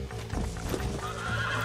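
A horse in the Red Dead Redemption video game lets out a loud whinny over the clatter of hooves, the neigh rising in the middle before the clip-clop carries on to the end.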